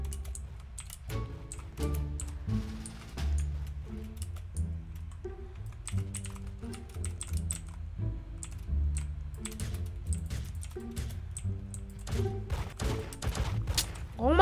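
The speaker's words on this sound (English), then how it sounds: "Bro, you're missing like all your shots with SMG." SMG fire in the Roblox game Da Hood rattles in quick, light, evenly spaced bursts that run almost continuously at moderate loudness, sounding like a stream of small clicky shots.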